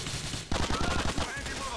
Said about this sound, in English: I really like the sound of this gun. It's really pleasing.